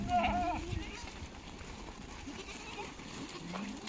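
Kathiawadi goats bleat loudly at the start, a short, wavering call close by, followed by fainter livestock noise and a busy background of voices.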